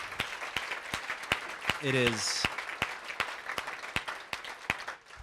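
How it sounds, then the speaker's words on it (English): An awards ceremony crowd claps for the year's nominees in sparse, distinct claps spaced through the moment, with a brief voice cutting in near the start. "give all the nominees who were nominated this year a round of applause"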